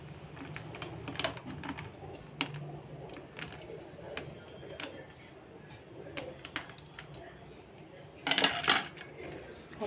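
A spoon stirs a mango mojito in a glass, light clinks and taps scattered through the clip before a busier burst of clatter near the end, close but soft, with some talk.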